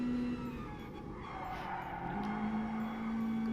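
An AE86 drift car slides and skids through a corner in Gran Turismo Sport, its engine droning at steady pitch beneath a continuous tire squeal that holds loud and unbroken for several seconds.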